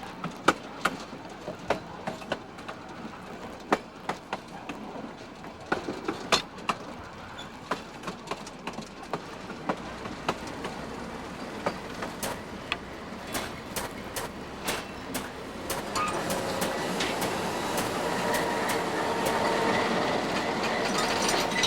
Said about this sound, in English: At Log Cabin, the train crosses the Klondike Highway for the first time.